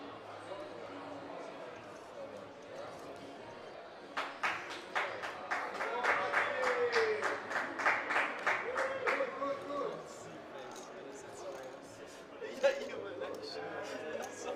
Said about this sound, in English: Looks like they are cheering for him on the rail